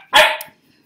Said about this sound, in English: 9-week-old puppy